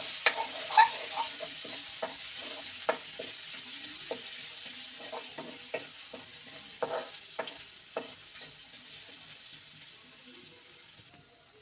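Crushed garlic sizzles in hot mustard oil, a soft, constant frying hiss broken by scattered pops and stirring scrapes close by.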